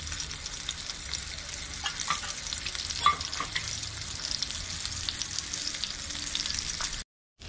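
Bangda mackerel frying in oil in a pan, a steady close sizzle and crackle with a few louder pops, running continuously before cutting off abruptly at the end.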